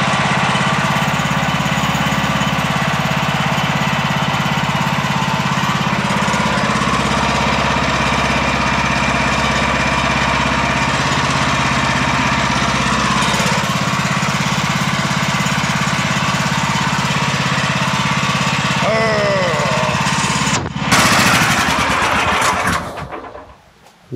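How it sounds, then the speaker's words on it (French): A lawn mower runs loud and steady with its blade rubbing against the guard, a continuous engine drone with a whining edge that cuts off abruptly near the end. "c'était aïe, la lame qui frottait sur le garde"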